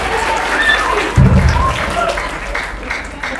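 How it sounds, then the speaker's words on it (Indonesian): Students in a school class project event clap for classmates, a brief burst of applause under some vocal sounds, with a thump near the middle and talk-like tones over the clapping. "Tepuk tangan."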